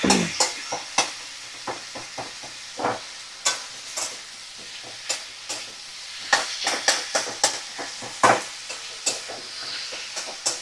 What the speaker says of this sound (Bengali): তো কষিয়ে নিচ্ছি ভালো করে।